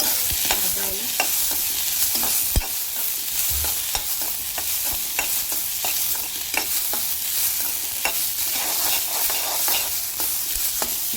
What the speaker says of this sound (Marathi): आणि मिरची पण टाकून घेऊया भाजायला।